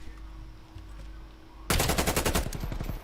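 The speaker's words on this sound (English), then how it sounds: "Trying to go for that long shot with the SMG." Rapid SMG gunfire in a competitive esports video game match bursts in loud and close after a quiet stretch of low background hum, a fast rattling stream of shots.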